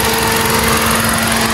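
A car engine idles smoothly and steadily, with a constant loud hum and a strong running drone from up close, no voices over it.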